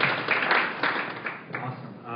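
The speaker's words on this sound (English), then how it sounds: "please give them a quick round of applause" Audience applause for panelists at an advertising conference session, a muffled wash of clapping from a room of people that fades toward the end, with some voices mixed in.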